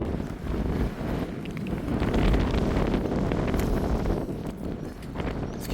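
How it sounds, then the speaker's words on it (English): Steady, strong wind buffets the microphone throughout on a coastal walk at Te Rewa Rewa Bridge, a constant rumbling roar with occasional gusts and faint rustling underneath. "It's so windy, oh my goodness."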